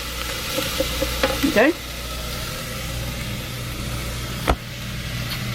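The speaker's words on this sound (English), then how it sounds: "I'm just sauteing the onions, make sure they're brown" Onions sauteing in a pan for cheeseburger soup: a close, steady sizzle with clattering stirring near the start, a sharp knock later, and someone talking briefly over it.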